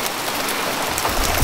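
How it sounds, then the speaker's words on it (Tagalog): Heavy rain pours down in a steady, dense hiss close by, with a deeper rumble building toward the end and no voices. "tinago ko lang muna kasi malakas yung ulan"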